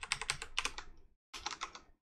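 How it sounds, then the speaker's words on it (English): Rapid typing on a computer keyboard during a live coding session, two short bursts of crisp, close key clicks separated by a brief pause of silence. "just start typing in random stuff"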